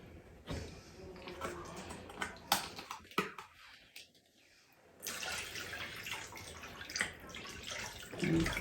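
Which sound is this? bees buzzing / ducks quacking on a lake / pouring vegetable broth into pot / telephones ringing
pouring vegetable broth into pot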